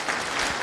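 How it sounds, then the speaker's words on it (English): Conference audience at a FOSDEM Go lightning talk session claps for the next presenter, a brief burst of dense, close applause filling the room. "Round of applause for Ron."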